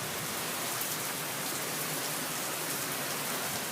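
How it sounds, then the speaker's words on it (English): Heavy rain pours steadily during extremely strong winds, a dense and constant broadband hiss that stays loud and unbroken throughout, with no voices. "Now it's raining."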